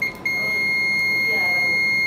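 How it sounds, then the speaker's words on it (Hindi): Loud, steady high-pitched beep from the internal buzzer of a Y90C digital multimeter, sounding continuously for about two seconds after a brief interruption near the start. "इसकी जो अंदर का जो बजर है वो भी काफ़ी तेज है। देखिए मैं आपको इसका साउंड सुनाता हूँ"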